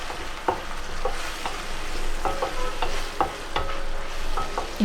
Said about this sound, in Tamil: இதெல்லாம் சேர்த்து லைட்டாக ஃப்ரை பண்ணிக்கோங்க